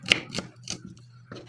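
Knife cutting an onion on a board, four or five crisp separate chops in uneven rhythm, close and fairly quiet, with no talk.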